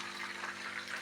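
Ground hibiscus flower paste mixture poured into a container for a homemade hair preparation, a steady close liquid splash and trickle running continuously without pause, no voices.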